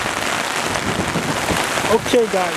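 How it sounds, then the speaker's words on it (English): Heavy rain pours steadily on an outdoor plot of land in Benin City, a dense, loud hiss throughout, with someone talking briefly over it near the end. "It's raining heavily."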